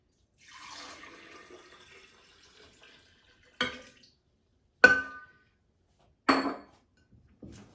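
Water is poured for fruit-infused spa water in a kitchen: a soft trickle early on, then several sharp splashes and clinks from a container, fairly quiet and close, with no talking.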